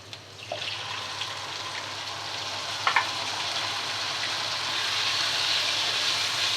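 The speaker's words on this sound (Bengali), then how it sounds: "পেঁয়াজটা ভেজে নিলাম। এখন মাংসটা দিয়ে দিব।" Onion and meat frying in a pan for a home-cooked curry, a steady close sizzle that builds gradually, with a few light clinks of utensils and no voices.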